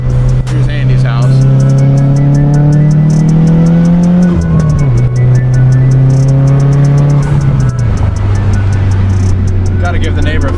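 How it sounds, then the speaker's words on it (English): A cammed car, White Rice, drives past a neighbor's house with a loud, lumpy engine note that rises, then drops twice as it shifts, close and continuous throughout, with a voice talking briefly over it. "He'll be happy to hear the car though."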